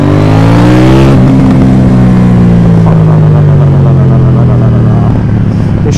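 A loud KTM Duke 790 motorcycle engine revs up, its pitch climbing and then holding high as it accelerates, very close and continuous throughout.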